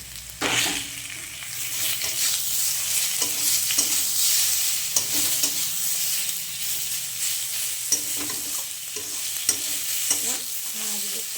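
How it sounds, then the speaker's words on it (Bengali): Fried potato and eggplant sizzling in a pan while being stirred, during cooking of puti fish with motor greens; a loud continuous fry with repeated scraping stir strokes close up, no speech. "দেখো আলুটা এবার ভাজা হয়ে গেছে, এবার আমি ভাজা বেগুনটা দিয়ে দেবো।"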